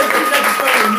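Congregation applauding during a French-language church sermon, a brief burst of dense clapping mixed with voices calling out, loud and close.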